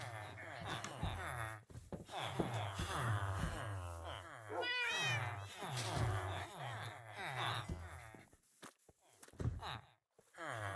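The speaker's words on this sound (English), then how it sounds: "Better get these kitties out of the way and let them get a little exercise with me while I'm doing this." Several house cats meow repeatedly close by, their rising and falling cries scattered among soft footsteps and thumps, with a few brief quiet pauses between calls.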